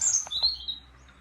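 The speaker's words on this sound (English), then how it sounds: "can you hear the birds singing?" Short bright bird chirps and tweets over a quiet, low background hum, fairly close and clear.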